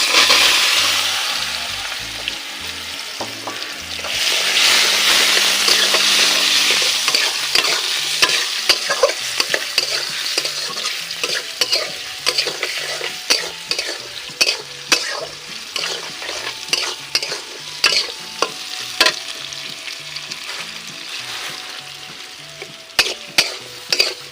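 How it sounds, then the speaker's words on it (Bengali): Chopped mango pieces fry in oil, giving a loud, steady sizzle broken by repeated sharp clinks and scrapes of a spoon stirring against the pan, with a stronger burst of frying a few seconds in. "এখন বন্ধুরা সেই কুচুনো আমগুলো তেলের মধ্যে দিচ্ছি"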